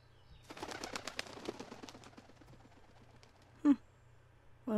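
Rapid fluttering of a small bird's wings in the game A Bird Story, a burst of quick soft flaps that fades out, followed by two brief louder chirp-like tones, with no speech over it.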